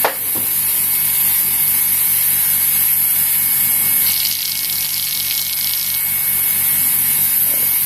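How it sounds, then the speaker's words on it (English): A small airbrush compressor runs with a steady high hiss and low hum while thinner is sprayed through to rinse, with a brief stronger spray burst partway, close and without talk. "Compressor back on"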